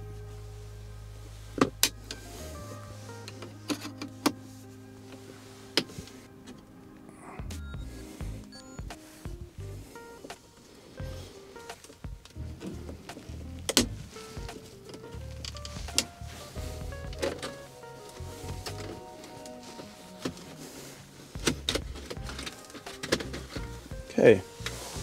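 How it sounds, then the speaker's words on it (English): Air vents on a BMW Z4 E85 dashboard being pried out with a plastic trim removal tool, producing scattered close clicks, creaks and sharp plastic snaps amid handling noise. "With a trim removal tool, you need to pull the air vents out."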